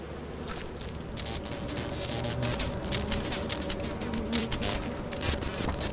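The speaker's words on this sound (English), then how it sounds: "why are the bees just locking onto me like that?" Bees swarming from a beehive in the video game Lethal Company, a dense buzzing drone with rapid fluttering patter, loud and continuous throughout.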